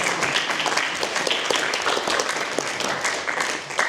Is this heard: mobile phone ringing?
no